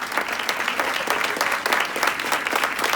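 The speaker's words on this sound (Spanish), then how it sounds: "recibámoslo con un gran aplauso al doctor que está con nosotros" A crowd at a medical conference on COVID-19 applauds to welcome a doctor to the stage, with thick, sustained clapping that stays fairly loud and even throughout and no talk over it.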